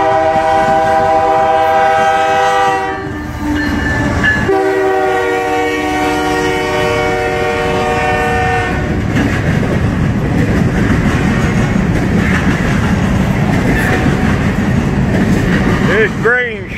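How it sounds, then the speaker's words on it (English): A grain shuttle freight train passes close by, its horn blaring in long sustained blasts before giving way to the loud rumble and clatter of rolling cars. "This grain shuttle train."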